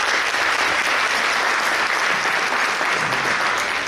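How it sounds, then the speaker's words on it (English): An audience at a firefighter academy graduation at Hagerstown Community College applauds in steady, dense clapping that holds at full strength across the whole stretch, with no voices over it. "give him a round of applause"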